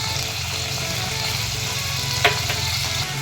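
Onions with cumin and fennel seeds fry in hot oil in a pan for a village-style country chicken curry, giving a steady, close sizzle with a brief louder crackle near the end and no talking.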